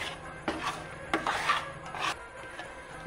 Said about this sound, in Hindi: चलाते रहना जब तक ये थोड़ा सा डो की तरह रेडी ना हो जाए